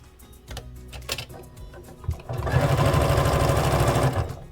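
A sewing machine stitches through a layered quilt, a few short start-stop bursts giving way to a loud, steady, rapid run of stitching up close.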